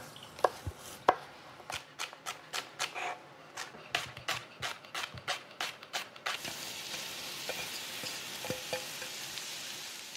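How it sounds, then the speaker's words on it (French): Rapid knife strokes slicing vegetables on a board, a quick run of sharp close taps, then a steady sizzle of beef fat melting in a pan takes over as the chopping thins out. "on va émincer nos légumes"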